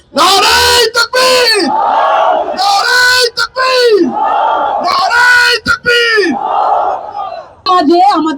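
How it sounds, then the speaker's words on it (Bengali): A large crowd at a political gathering at Shahbag shouts slogans in unison, loud repeated call-and-response bursts with brief pauses between each chant. "আর আপনারা আমার সাথে একসাথে স্লোগান দেবেন"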